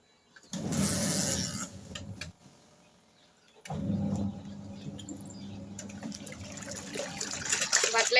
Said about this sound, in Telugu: ఇప్పుడు మిషన్ ఆన్ చేసుకున్నాం